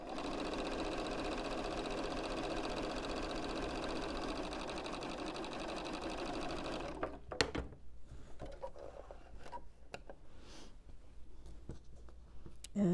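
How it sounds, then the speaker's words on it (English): A sewing machine stitching quilt pieces for an autumn postcard quilt runs in a steady rapid mechanical whir for about seven seconds, then stops, leaving faint handling clicks and rustling of fabric. "You're going to line up the right angle and sew it with the triangle and rectangle matching."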